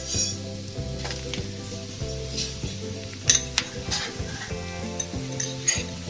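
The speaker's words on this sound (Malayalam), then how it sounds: "മസാലയായിട്ട് കംപ്ലീറ്റ് യോജിപ്പിച്ച് കൊടുക്കാം" Mashed boiled potato being stirred into spice masala in a pan for aloo paratha filling, a steady sizzle with repeated scraping and clinking of a spoon against the pan, close and continuous with no talking.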